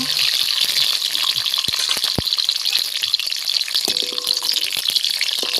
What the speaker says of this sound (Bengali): প্রথমে কাজু কিশমিশগুলো আমি একটু ভেজে নিচ্ছি।